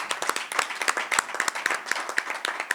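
An audience at a culture-of-peace forum claps for about three seconds, a dense patter of individual hand claps at moderate, steady loudness, with no voices standing out.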